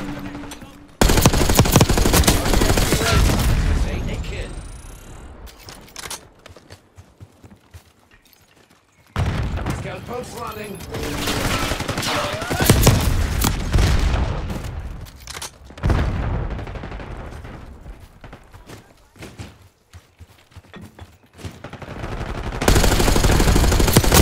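Rapid gunfire and explosive booms from a competitive video game firefight over a capture point, loud bursts coming in waves with short lulls between them.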